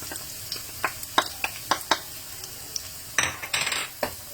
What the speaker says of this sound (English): trying to stir fry the garlic